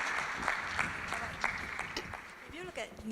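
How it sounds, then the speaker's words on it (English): Audience applause at a Merz Golden Ratio event in Singapore, 2017, a short burst of scattered hand claps from a moderate crowd, heard under a person speaking. "So a big round of applause for Dr. Joyce, please."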